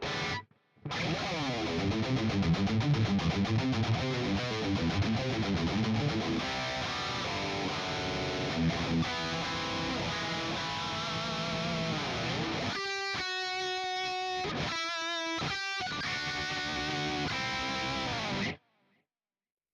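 Heavily distorted electric guitar riffing through a JP2C tube amp, dense and loud, ending in a few chopped, rhythmic stabs before cutting off.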